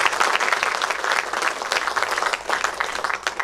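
An audience at a Braj Mahotsav poetry gathering in Delhi breaks into loud, sustained applause. The clapping stays dense and even throughout and is heard alone, with no talk over it.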